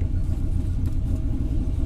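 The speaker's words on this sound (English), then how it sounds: "I changed the exhaust a little bit, so now it doesn't drone underneath the truck." A Ford Ranger truck with an LS engine swap and modified exhaust rumbles loudly while driving, a steady deep engine drone heard from close by without pauses.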